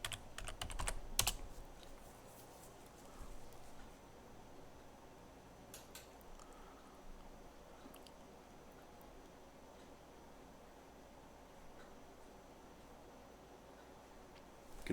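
A password being typed on a computer keyboard at a login screen, a quick burst of loud key clicks at the start, then sparse faint taps over a quiet room hum.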